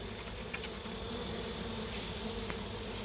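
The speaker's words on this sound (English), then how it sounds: "Sherm over here with some bees." Honey bees buzz in a dense, continuous drone from a hive being opened for honey harvesting, close and steady throughout with no voices.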